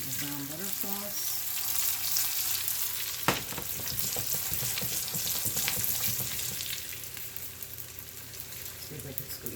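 Ravioli sautéing in brown butter sauce in a very small pan, giving a steady close sizzle with soft stirring and a sharp knock partway through, under faint speech.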